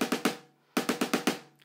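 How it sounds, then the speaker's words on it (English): A drum five-stroke roll played with single strokes: three crisp hits, a brief gap, then five evenly spaced strokes, close and clean with short decays. "So if I did like a 5-stroke roll, I do it with singles"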